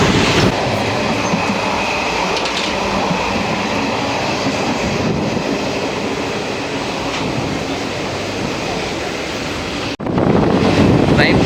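Express train from Trichy to Tambaram running at high speed, a steady loud rumble of wheels and carriage noise with wind buffeting throughout and a brief dip near the end before the roar resumes.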